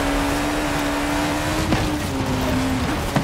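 A car engine races in the video game Forza Horizon 5 on a Baja circuit, a loud, sustained engine tone with a couple of sharp clicks and brief tire noises.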